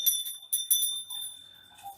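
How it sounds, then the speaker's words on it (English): A small high-pitched bell rings several times in quick succession, bright shimmering strikes that decay into a faint fading ring, close and alone. "let's go ahead and ring the bell"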